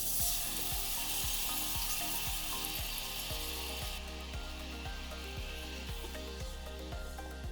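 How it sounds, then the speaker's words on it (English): Roasted red peppers sautéing in olive oil in a skillet, a steady close sizzle running throughout, with a rhythmic low mechanical pulsing underneath. "Heat 2 tablespoons of olive oil in a skillet and sauté about 6 ounces of roasted red peppers"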